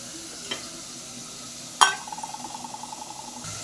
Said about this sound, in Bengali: এবার আমি চিংড়ি মাছটা দিয়ে নেব।